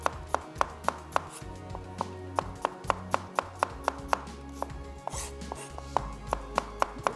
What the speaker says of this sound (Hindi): प्याज को हमने स्लाइस कर लेना है